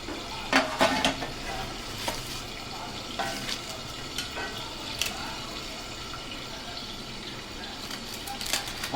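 Fish fries in a pan without oil, giving a steady crackling sizzle broken by scattered sharp pops and spatters, with faint background noise and no clear talk.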